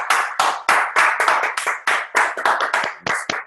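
A roomful of people clap together for a colleague during a group mastermind session, a dense burst of handclaps lasting a few seconds, loud and close, with no talk over it.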